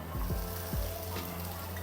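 Coarsely ground green peas drop into garlic frying in a pan, setting off a steady, close, soft sizzle with a few quick stirring scrapes.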